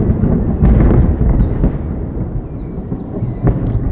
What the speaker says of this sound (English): I hope the camera caught that thunder.